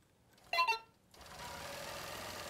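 A quilting sewing machine stitching feathered C-curl designs along a quilt border: a brief whirring burst, a short pause, then a steady, moderately loud mechanical hum that runs to the end.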